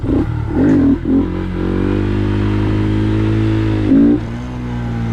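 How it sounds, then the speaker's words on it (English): A Honda Grom motorcycle engine revs hard in first gear for a power wheelie, with a steady droning tone between sharper rev bursts near the start and end. "I would do kind of like a power wheelie, and I would just rev it all the way out in first"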